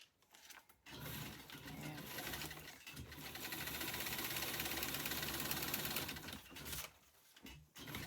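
A sewing machine stitches steadily down the edge of a junk journal page, a continuous close mechanical whir that runs for several seconds, then stops and starts briefly, with faint voices in the background.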